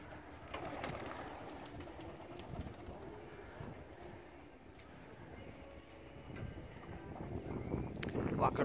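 Racing pigeons coo softly at a dovecote on an overcast, drizzly day, with low repeated calls and some rustling and movement nearby, fairly faint and steady throughout.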